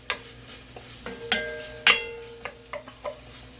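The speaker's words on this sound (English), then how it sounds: "we're going to stir that in just for a second" Food is stirred in a hot pan in a home kitchen, with sharp spoon scrapes and clinks against the metal over a low sizzle, arriving in irregular strokes with brief pauses between them.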